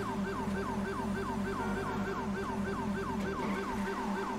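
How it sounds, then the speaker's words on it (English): Police siren in GTA 5 with the LSPDFR patrol mod, a loud, continuous wailing yelp cycling rapidly and evenly over a low engine rumble, heard alone without talk. "You hear siren, lady."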